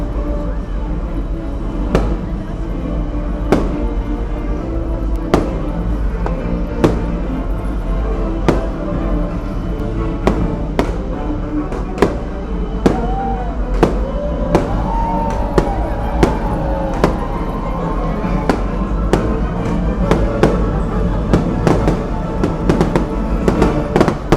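Fireworks bursting over the deck of the Disney Dream cruise ship on pirate night, a long run of sharp pops and booms, some in quick clusters, with crowd chatter and music underneath.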